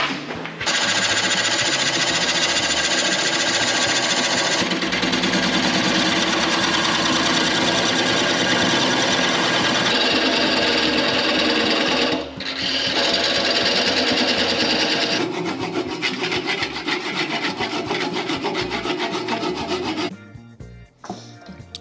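A power tool cuts through a block of wood being shaped into a wooden vase, a loud continuous grinding rasp that runs steadily for about twenty seconds before winding down at the end.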